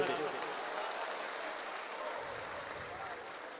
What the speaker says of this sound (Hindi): पूरा सदन मुझे तालियों की गड़गड़ाहट से इजाजत दे दे